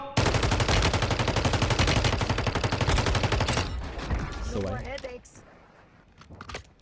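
Rapid automatic gunfire from Call of Duty: Warzone Mobile sounds loud and close for about four seconds, then cuts off and gives way to someone speaking and fainter game sounds.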